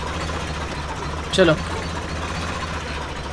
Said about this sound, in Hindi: हम चलाएंगे पहले ट्रैक्टर ही